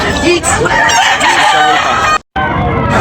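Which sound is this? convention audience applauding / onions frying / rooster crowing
rooster crowing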